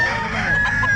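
A seven-month-old stag rooster crows once at a pet market, a loud, close, strained call lasting the full second, with clucking and market bustle beneath.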